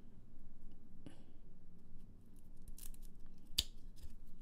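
Thick, glossy, heavyweight tarot cards are handled up close, giving scattered soft papery clicks and snaps as cards stuck together are pulled apart, with one sharper slap near the end.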